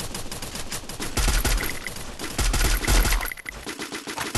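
Sustained automatic gunfire from Garena Free Fire rattles continuously, loud and dense, with heavier bursts of shots near the start and middle, rapid volleys piling on top of one another throughout.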